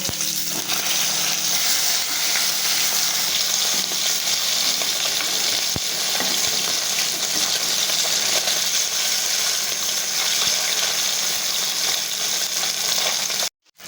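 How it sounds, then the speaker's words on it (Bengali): Bata fish frying in hot oil, a loud, continuous close sizzle and crackle that holds steady throughout, with one faint tap midway and an abrupt stop at the end. "এবার আমি মাছগুলোকে উল্টে দিয়ে অন্য পিঠ ঠিক একইভাবে আমি ভেজে নেব।"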